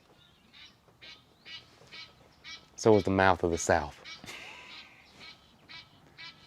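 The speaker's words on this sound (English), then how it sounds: "Birds are out too this morning." Loud honking and quacking from geese or ducks bursts out in a brief cluster outdoors, with scattered talk and bird calls before and after.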